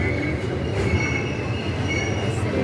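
A long train rolls steadily past at a railway station in Kerala, a continuous rumbling roar with metallic wheel hiss and faint screeching tones, close and loud throughout with no break.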